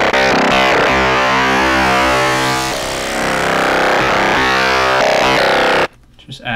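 A loud, heavily distorted synth bass from the Zebra2 synthesizer drones with gritty buzzing harmonics and shifting tone for several seconds, then cuts off abruptly.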